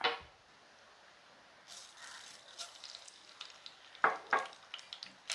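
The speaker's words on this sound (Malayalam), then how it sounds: "കുറച്ച് എണ്ണ ഒഴിച്ച് ഇനി നമുക്ക് കടുക് ഇട്ട് കൊടുക്കണം" Mustard seeds hitting hot oil in a pan, first a brief crackle, then a faint steady sizzle rising into sharp popping bursts and spatters toward the end, close and moderately loud.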